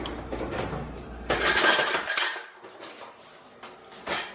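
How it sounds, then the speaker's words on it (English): A metal spoon clinks and scrapes against a pot while dropping marshmallow fluff in for fantasy fudge, with a few clattering knocks and a louder burst of handling, close by and without speech. "I'm going to start dropping this fluff in here."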